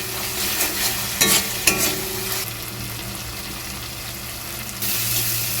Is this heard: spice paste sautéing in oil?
yes